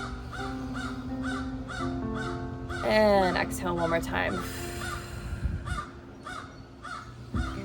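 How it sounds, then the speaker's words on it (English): Crows caw outside during a seated relaxing stretch session, repeated harsh calls, some near and loud, mostly under a calm instructing voice. "The birds are joining me."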